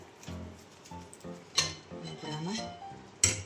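A spoon stirs semolina ravo pudding with milk in a metal pot, giving soft scraping swirls and a few sharper clinks against the pan, close and moderately loud with no talking.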